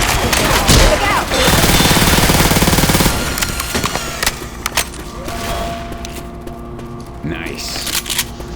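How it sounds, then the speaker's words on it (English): Rapid gunfire from the video game Left 4 Dead 2, a loud dense burst of automatic shots over the first three seconds, then scattered shots and game effects with voices calling out over the action. "I would like the sound of that gun"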